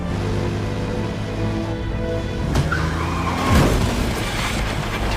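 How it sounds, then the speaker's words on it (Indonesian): A car speeds down an empty road in a film scene and gets sideswiped by another car: steady engine roar with a rising swoosh and tire noise as the vehicles pass and graze, no voices. "Tapi tiba-tiba Babi diserempet oleh mobil misterius."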